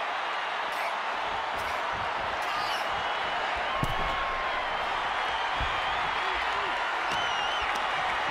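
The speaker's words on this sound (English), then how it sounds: "The sound of this crowd is deafening," Arena crowd in the WWE 2K24 wrestling game roars continuously with loud cheering and whistles throughout, under commentary and occasional ring impacts.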